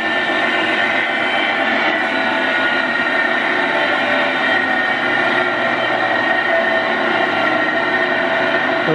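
A Kearns horizontal boring machine boring an agitator paddle boss runs in high speed, low gear at about 115 RPM, giving a loud, steady, unbroken mechanical roar and whine heard close up.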